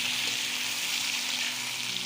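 Cut chicken leg pieces frying in hot oil in a pan for biryani, giving an even, continuous close sizzle with a faint hum underneath and no voices.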